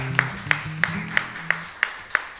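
Sparse, evenly spaced claps, about seven sharp hits roughly a third of a second apart, with faint low murmuring underneath.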